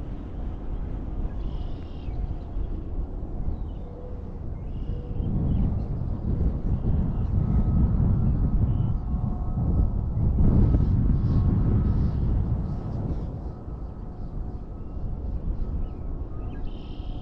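Wind blows outdoors on a crisp day, a low rumbling buffeting that swells and fades across the clip, loudest in the middle, with faint distant sounds above it and no talking.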